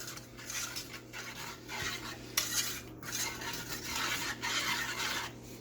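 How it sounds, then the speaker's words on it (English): A spoon scrapes and stirs lemon meringue pie filling in a pot, giving repeated close rhythmic strokes with metal-on-pot scraping, and no voices over it. "Let's mix this together. I'm going to mix this together."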